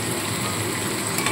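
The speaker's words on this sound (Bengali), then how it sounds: "লবণটা দিয়ে একটু নাড়াচাড়া করব।" Onion and tomato with salt frying in a pan make a dense, continuous sizzle that stays loud and even, with light stirring scrapes mixed in.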